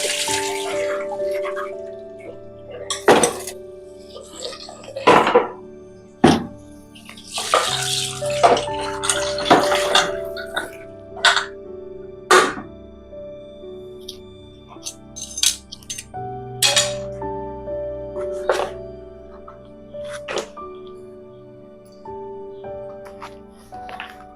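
Dishes and pots are washed under running water, with scattered clinks and clanks of metal and crockery, splashes and tap flow in irregular bursts, close by over a steady tonal background.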